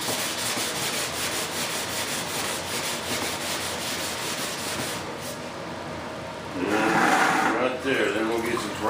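Steady, close scraping of sandpaper over Bondo filler on a model jet, repeated strokes running continuously, with a person talking over the sanding.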